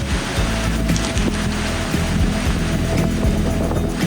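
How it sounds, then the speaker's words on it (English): Steady wind buffets a campsite near Portal, Arizona, a continuous broad rushing roar with low gusty rumbles, loud and close to the microphone, with no talking. "And you can hear the wind."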